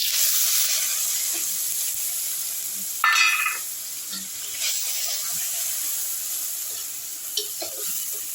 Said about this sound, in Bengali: আদা, রসুন, পেঁয়াজটা একটু এবার আমি কষে নেব ফোড়নের সঙ্গে